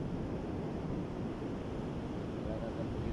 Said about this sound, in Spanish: Relájate un poquito y escucha cómo el agua te habla en un momento.